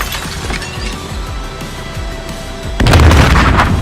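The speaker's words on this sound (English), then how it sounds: "Throw a grenade in there." A grenade detonates in the military shooter Gray Zone Warfare, a sudden loud boom that swells the mix after a stretch of scattered gunfire and rumble, then lingers as a heavy, sustained roar.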